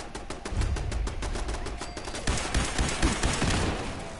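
Rapid enemy gunfire in the video game Fallout 4, a fast stream of close, sharp automatic shots rattling steadily for several seconds with no talk over it.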